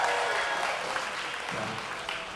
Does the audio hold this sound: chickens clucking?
no